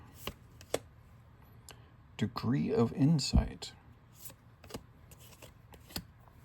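RiftBound trading card booster packs being pinched and bunched up, giving sharp crinkling clicks and foil rustles scattered across the clip, close by, while a person briefly speaks in the middle.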